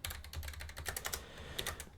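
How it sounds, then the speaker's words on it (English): Quick, uneven keystrokes on a computer keyboard, a close, quiet run of clicky taps with brief pauses between bursts, no voices. "type seed phrases"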